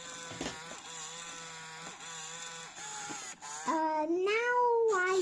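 A cat meows several times, drawn-out wavering calls that grow louder and more insistent toward the end, over a faint steady background hum.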